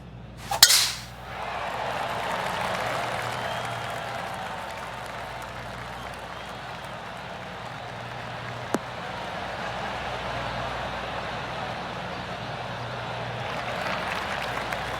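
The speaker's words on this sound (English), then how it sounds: "Oh, golf clap." A golf gallery in the PGA Tour 2K23 video game claps at the Zurich Classic: a sharp strike opens, then a broad, steady wash of crowd applause holds for the whole stretch, with a single crisp click midway.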